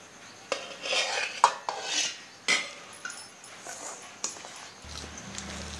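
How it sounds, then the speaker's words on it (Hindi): A spoon mixes a sesame and semolina laddu mixture with sugar syrup in a metal vessel, making irregular scraping strokes and sharp clinks at close range. "तो मैंने इसमें चाशनी अच्छे से तरह से डाल दिया और मिक्स कर रही हूँ"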